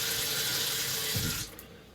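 Running tap water pours steadily into a pot, a loud close rush that stops abruptly near the end, followed by a few drips.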